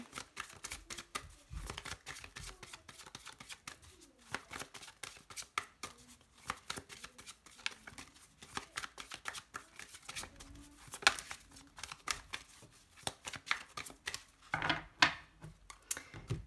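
Tarot cards are shuffled by hand for a card draw, making a quiet, continuous run of soft riffling and flicking with irregular taps and crinkles, close but low in level and with no talk.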